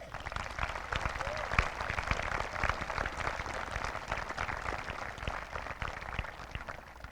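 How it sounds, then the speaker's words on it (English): Steady applause from a crowd at a high school commencement, honoring retiring teachers and staff, a busy even patter of many hands held at moderate level throughout. "Let's give them all a round of applause."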